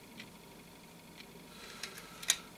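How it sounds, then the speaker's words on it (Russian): A wall clock built from a car clutch disc ticks faintly in a quiet room, a few soft, sparse clicks with no talking. "слышим, они работают"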